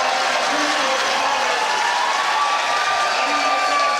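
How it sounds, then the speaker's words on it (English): A packed crowd at Club Pine Rivers erupts for the Bowls Premier League final win, sustained cheering and applause filling the room loudly and steadily throughout, with shouts rising above the roar. "Crowd going nuts inside Club Pine Rivers. They are standing as one as the Brisbane Pirates have done it."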